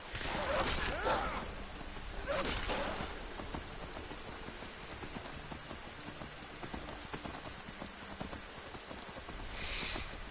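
Rain falling in the modded video game Skyrim forms a steady, moderately loud hiss of drops on surfaces, with a few louder splashy bursts early on.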